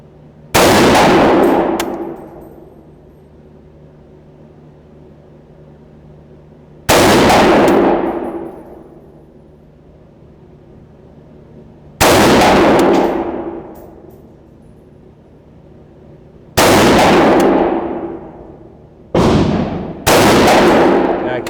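Five loud rifle gunshots from a PTR HK GIR fired at 25 yards, each a sharp crack with a long ringing decay, spaced several seconds apart with the last two coming close together.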